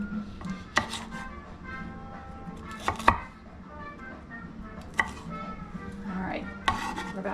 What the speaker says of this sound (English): This is a chef's knife I have had forever, and it's my favorite knife to use.